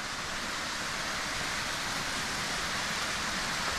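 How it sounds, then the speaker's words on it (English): Laurel Falls, a mountain waterfall running at low water after a dry spell, gives a steady, dense rushing roar that fills the whole stretch evenly with no voices over it. "All right, so here we have Laurel Falls."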